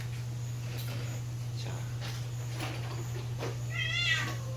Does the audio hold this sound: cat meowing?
yes